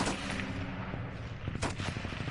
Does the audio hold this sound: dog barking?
no